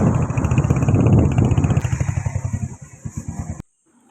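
A motorcycle engine chugs loudly and close in a fast, pulsing rhythm on a ride from Nurpur to Darjeeling. The beat slows and thins before cutting off abruptly into near silence.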